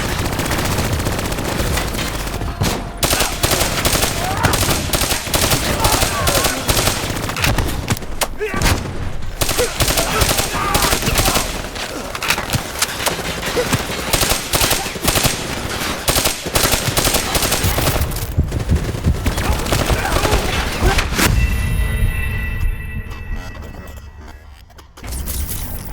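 Sustained bursts of gunfire from Call of Duty: Black Ops 3 roar loud and continuous for most of the stretch, thinning out toward the end as the shooting dies down.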